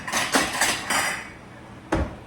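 Shrimp fried rice being scooped into a bowl, a handful of clinking, scraping utensil-against-dish knocks in a quick cluster, then a pause and one more clack.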